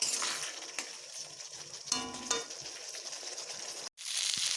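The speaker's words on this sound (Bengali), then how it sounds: "এবার মশলা এবং এগুলোকে আমি খুব ভালোভাবে ভেজে নেব" Spices and mola fish fry in a pan with a soft, crackling sizzle, broken by scattered clinks and scrapes of a utensil and a brief silent gap near the end.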